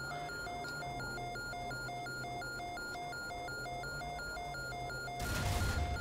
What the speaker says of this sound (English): It's enough with the beeping.